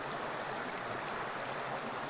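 A stream rushes over big rocks near a waterfall in Whitecourt, Alberta, a steady, even wash of water with no break from start to end.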